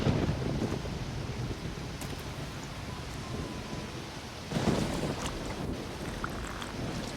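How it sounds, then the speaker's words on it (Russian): Steady rain and wind in the video game Risen, with deep thunder rumbling loudly at the start and again in a strong swell midway, no voices. "Блин, что-то тут тоже дождь пошел."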